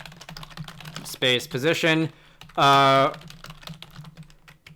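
Computer keyboard keys clatter in quick irregular taps, close and moderately loud, running under and between brief spoken words.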